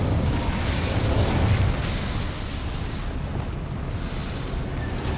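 Fire spell cast in Hogwarts Legacy, a loud, broad rushing whoosh that swells in the first two seconds and then holds as a steady roaring burn to the end.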